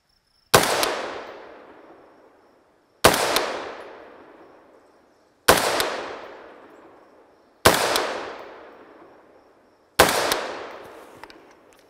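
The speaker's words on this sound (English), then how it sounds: "shooting the AR-15 is just totally fun" An AR-15 rifle firing .223 Remington handloads lets off five loud, sharp shots, spaced about two seconds apart, each decaying into an outdoor echo, with no voices.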